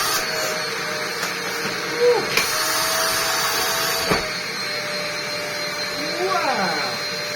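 A vintage Dyson DC03 vacuum cleaner runs steadily with a loud, even whirring roar and high motor whine, punctuated by a few knocks and brief pitch sweeps as it is handled.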